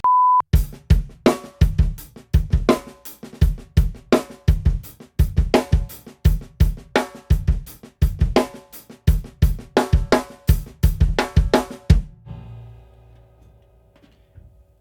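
Snare drum played softly with ghost strokes and accented backbeats, no rim shot, a steady repeating pattern of crisp hits for about twelve seconds before a faint ringing tail.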